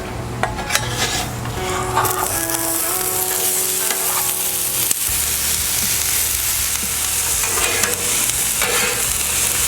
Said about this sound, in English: Okay, our griddle's hot. Let's get these veggies on.